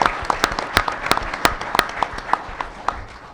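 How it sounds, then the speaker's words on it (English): Crowd applause for the university regents at a Murray State community event, with distinct sharp claps standing out over a steady patter of many hands that thins slightly toward the end. "let's give our regents a round of applause"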